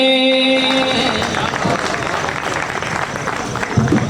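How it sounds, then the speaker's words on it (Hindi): Applause from the crowd at an all-India poetry gathering at a fair in Chhatarpur, a dense, sustained roar of clapping mixed with crowd noise, with a tonal note fading out at the start. "एक बार जरा जोरदार तालियां बजाइए"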